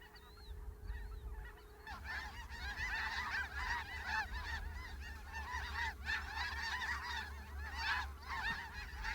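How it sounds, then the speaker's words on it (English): A flock of snow geese honks continuously, many overlapping nasal calls forming a dense, steady chorus with a low background rumble. "Next to arrive are the snow geese, easily recognized by their snow-white body and black wingtips."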